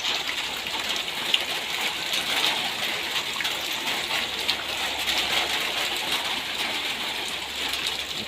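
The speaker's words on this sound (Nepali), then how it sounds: "पानी त अलिअलि पर्यो" Steady light rain falling on paddy fields during rice planting, a dense continuous patter of drops with no voices.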